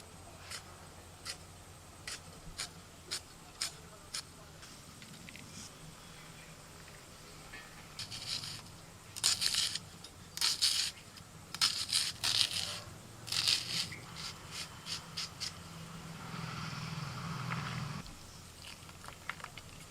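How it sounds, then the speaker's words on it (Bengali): Onion and coriander leaves chopped with a knife on a board, sparse single taps giving way to quicker bursts of close, crisp cuts, then slower strokes and a soft scraping near the end, no talking. "আর কিছু পেঁয়াজ ধনে পাতা এগুলো একটু কেটে নিচ্ছি"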